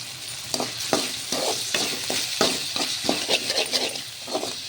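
A spoon stirs potato rice with turmeric in a hot pan, giving repeated scraping strokes over a soft sizzle of frying, close and fairly quiet, with no talking.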